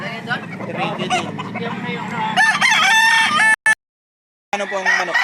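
A rooster crows loudly and close at a chicken market, a long strained call amid chickens clucking and people chatting nearby, then a brief cutout and more crowing.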